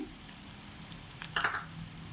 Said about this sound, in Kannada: ಇದನ್ನು ಚೆನ್ನಾಗಿ ಹುರ್ಕೊಳ್ಬೇಕು ತೆಂಗಿನಕಾಯಿ ತುರಿ ಹೊಂಬಣ್ಣ ಬರೋ ತನಕ ಇದನ್ನು ಚೆನ್ನಾಗಿ ಹುರ್ಕೊಳ್ಬೇಕು